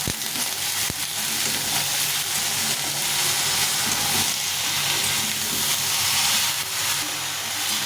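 Turmeric powder splashed with a little water sautés in a pan with shol fish bones, giving a constant loud sizzling hiss close by, broken by one sharp knock near the start.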